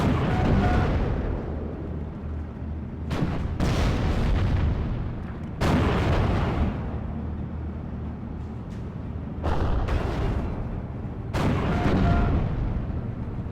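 Tank guns fire in the WWII Normandy strategy game Steel Division: Normandy 44. Several heavy, booming blasts land a few seconds apart, each with a sharp crack and a rolling low rumble, over a constant battlefield drone.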